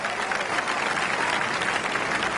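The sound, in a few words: applause for a golf birdie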